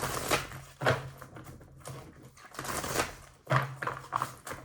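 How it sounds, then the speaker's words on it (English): Tarot cards shuffled by hand in a quiet room, giving a series of crisp riffling bursts and soft slaps at an irregular pace, fairly close and moderately loud. "these cards are really loud when shuffled"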